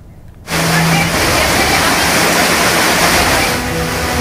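Flash flood water rushing through villages in the Puncak area of Bogor, Indonesia, a loud, continuous roar of torrential water that starts abruptly and holds steady throughout.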